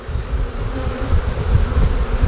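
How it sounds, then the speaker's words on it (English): Honey bees drink at close range, their buzzing a dense, continuous drone with small rises and falls and no other sounds. "I've never been this close to bees"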